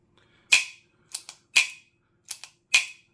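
Trigger and sear of an MCX SURG rifle kit snapping sharply, several close, crisp metallic clicks, some single and some in quick pairs, separated by silence.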